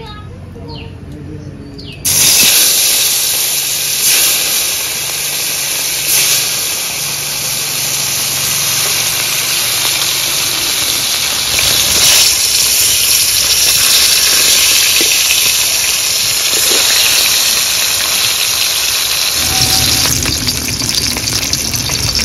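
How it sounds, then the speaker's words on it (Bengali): Koi fish dropped into hot oil for frying set off a loud, steady hiss that bursts in suddenly and carries on without a break. "এবার মাছগুলো তেলে ছেড়ে দেবো।"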